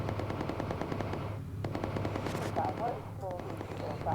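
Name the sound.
machine gun fire in video game Bomber Crew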